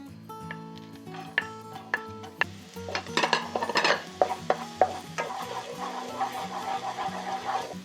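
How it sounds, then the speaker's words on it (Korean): Green onions stir-fried in oil in a heated pan for shrimp fried rice, with clinking utensil taps against the pan followed by a steady scraping and stirring clatter under a soft sizzle, close and moderately loud. "팬이 살짝 달궈지면 대파와 함께 볶아주세요."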